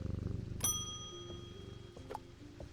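Cat purring in the video game Strange Antiquities, a low rumbling purr close by that holds steady, with a bright chime ringing out partway through and a few soft clicks.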